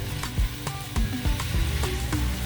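Ginger, cilantro, vegetables and meat sizzle in a hot pan for fried rice, a dense continuous fry close up with repeated sharp knocks and scrapes of a spatula stirring, no voices.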